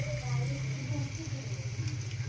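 A cook frying food in a home kitchen, a steady soft sizzle with a low hum underneath, heard close and continuous, while people talk over it.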